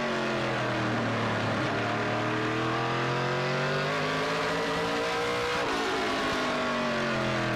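NASCAR Pinty's Series stock cars racing at the CRS Express 300, a loud engine roar that rises and falls in pitch as cars pass close by, steady and continuous with no talking.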